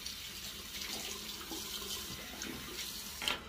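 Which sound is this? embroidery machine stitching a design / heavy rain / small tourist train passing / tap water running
tap water running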